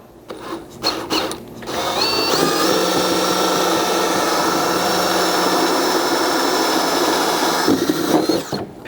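A power drill bores new holes into the bed side of a Ford Maverick pickup for a MOLLE panel install: a loud, steady whine runs unbroken for about six seconds after a few short starts, with no talking.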